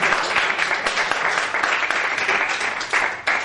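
Audience applause at a live event, dense and continuous clapping from a crowd that holds steady and then tapers slightly at the end.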